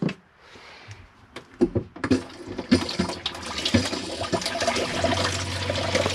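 A few clicks and knocks, then a motorhome cassette toilet flushes with a steady rush of water that builds and keeps running, close and fairly loud.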